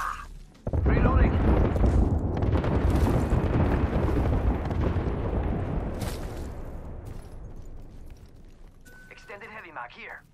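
A thermite grenade in Apex Legends ignites with a sudden loud burst, then roars and crackles steadily for several seconds before slowly fading, with a short voice line over the end.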